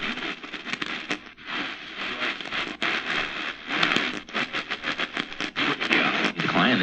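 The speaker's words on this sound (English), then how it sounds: "So you hear it kind of has a crackling sound as you tune it." A Kaito KA900 Voyager Max radio crackles and hisses steadily while being tuned across the band. The static is loud and close, with choppy bursts and scratchy fluctuations and no voice over it.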